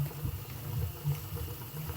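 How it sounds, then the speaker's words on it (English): A pot of crab and okra stew bubbles and simmers, with a low, irregular churning rumble and soft popping carrying on steadily. "So this has been boiling for just for a while now."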